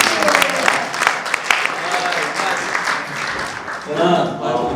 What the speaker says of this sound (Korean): 이번에는 주신 분들이 이긴 분들을 위해서 뜨겁게 박수를 축하해봤습니다.